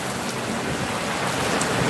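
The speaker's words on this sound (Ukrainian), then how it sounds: "Це дощ" Rain falls steadily, a dense, even hiss of drops spread across the whole range, loud and close, with no talk and no break for the full two seconds.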